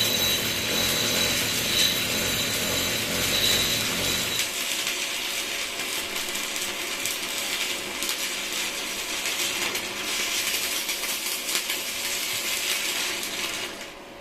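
Arc welding with a Victor Japani DC inverter welding machine on a No. 10 rod: a steady, loud crackling hiss runs throughout. A heavier low rumble drops away after the first few seconds, and no one speaks.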